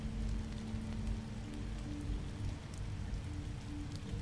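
Steady rain patters and hisses continuously in the video game The Wolf Among Us, with a low hum underneath and no voices.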